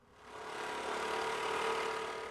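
Scooters move through city traffic in Bhubaneswar, heard as a steady, low engine drone that swells in and holds at a moderate distance, with no voices.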